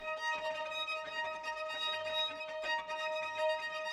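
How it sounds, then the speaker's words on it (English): Dry, close string quartet from the Salu library playing irregular repeated high-string notes, a steady shimmering layer of sustained pitches with fluttering repetitions and no reverb tail, carrying on unbroken. "The next sound that I'm using for the high strings is the string quartet from a library called Salu, and I'm using the irregular repetitions"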